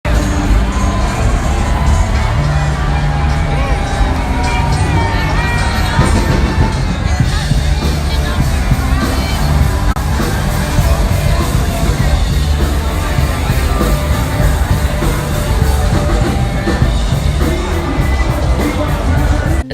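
Dense, loud crowd noise with cheering and shouting fills Broadway, the bar street in Nashville, while live cover bands play southern rock underneath throughout.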